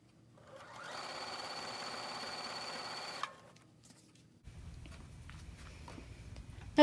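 A sewing machine stitches quilt block pieces for wonky star blocks in one steady run of about two seconds, then stops, leaving handling noises and a low rumble.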